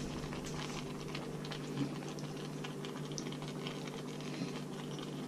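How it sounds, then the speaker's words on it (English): Kimchi-jjigae stew with tofu coming back to a boil in a pot, giving a soft, continuous bubbling and popping patter that stays even and close throughout. "Well, it's starting to reboil anyways."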